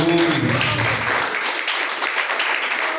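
Church congregation bursts into applause for Jesus during a live sermon, broad clapping continuing steadily after a few spoken words and a brief tone at the start.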